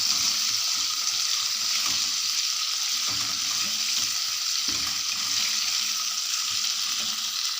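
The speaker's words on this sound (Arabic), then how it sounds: "واضيف بقى البطاطس نقلبها كده مع الثوم" Potatoes and garlic frying in a pot while being stirred, a steady bright sizzle with occasional scraping and clatter from the stirring, close and continuous throughout.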